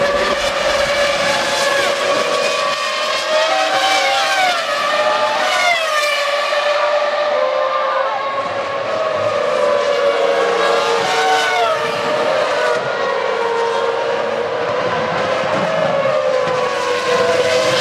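Formula 1 cars racing at Monza during the 2001 Italian Grand Prix, loud high-pitched engines screaming and sweeping in pitch as they pass, continuous and dense with a commentator's voice faint underneath.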